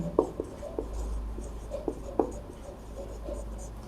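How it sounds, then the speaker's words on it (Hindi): Pen or chalk writing out a class 12 maths proof by hand, with a series of short scratchy strokes and taps at an irregular pace, close and fairly quiet against a low room hum. "तो हम लिखेंगे हेंस प्रूव्ड।"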